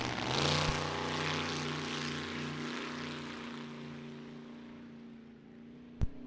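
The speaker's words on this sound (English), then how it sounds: "at just 84 years young comes Stan Johnson, the Pontiac-powered front-engine dragster from Brookfield, Wisconsin" Pontiac-powered front-engine vintage dragster at a vintage drag race, a loud sustained engine roar with steady harmonic tones that slowly fades as it runs down the quarter mile, with a sharp click near the end.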